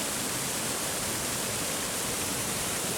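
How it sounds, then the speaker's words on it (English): The Black Spout waterfall in woodland near Pitlochry, Scotland, pours as a dense, constant broadband roar of rushing water, steady and loud with no pauses or voices. "we found this really beautiful woodland and a waterfall called the Black Spout"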